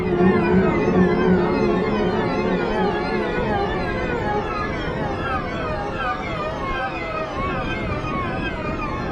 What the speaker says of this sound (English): It sounds like some sort of moving pad.